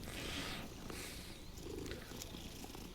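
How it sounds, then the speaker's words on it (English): A cat in the game Hogwarts Legacy purrs softly and continuously while being petted, a low steady rumbling purr heard alone and at close range. "Look at the cat. We're gonna pet the cat."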